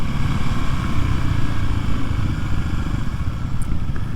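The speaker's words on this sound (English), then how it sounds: "It definitely has a different sound to the motor." Kawasaki KLX 300SM motorcycle engine running with a steady, close, loud thumping rumble that holds even throughout, with no talk over it.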